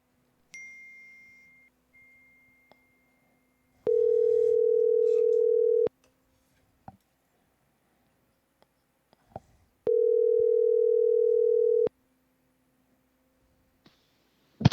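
A telephone line sounds two long, steady electronic tones, each about two seconds, separated by several seconds of near silence with faint clicks in a quiet room.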